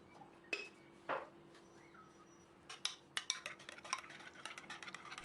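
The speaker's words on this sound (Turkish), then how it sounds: "Yoğurdu bir kaseye aldıktan sonra güzelce karıştıracağım" Yogurt stirred in a bowl with a spoon, producing scattered faint clinks and scrapes, sparse at first and then quicker and more rhythmic, close but quiet.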